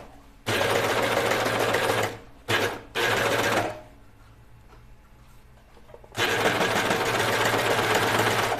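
A serger sews a stacked seam on a dress, running loud and steady in several bursts: a long run, two short bursts, a lull with faint sounds, then another long run.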